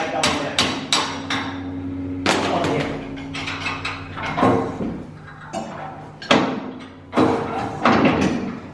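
Metal car lift part being hammered up into place in a garage: sharp ringing hammer blows in irregular clusters with pauses between, close and fairly loud, with a voice faintly in the background.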